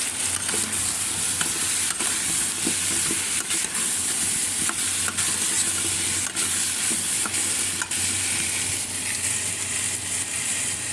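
Sweet pumpkin with shrimp sautéing in a pan, giving a loud continuous sizzle and hiss with frequent stirring scrapes and clicks throughout, with no talk.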